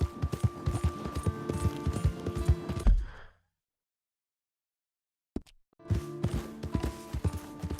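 A fast horse's hooves clatter in a rapid galloping rhythm in Red Dead Redemption II, close and loud with game ambience, then cut to silence for about two seconds before resuming.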